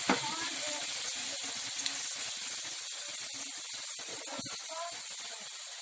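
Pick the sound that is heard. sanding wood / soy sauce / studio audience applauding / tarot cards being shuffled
soy sauce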